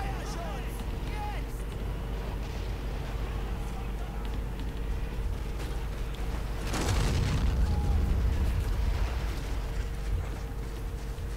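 Rocket explosions in the WWII strategy game Men of War Assault Squad: a constant rumbling battle bed, swelling into a louder, heavier booming burst about two-thirds through before settling back to a steady roar.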